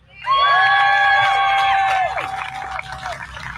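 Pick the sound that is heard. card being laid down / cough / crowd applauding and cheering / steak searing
crowd applauding and cheering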